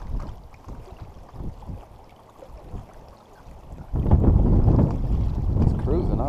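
Strong gusty wind at a reservoir buffets the microphone with low rumbling roars that swell louder partway through, heard outdoors near a boat.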